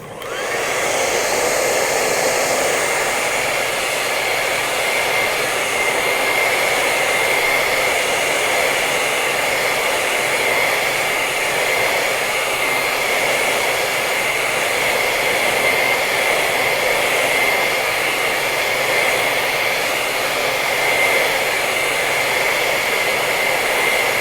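Hair dryer blowing steadily on an art project in a studio, a loud, continuous whooshing roar with a high whine that holds unchanged from start to finish, no voices.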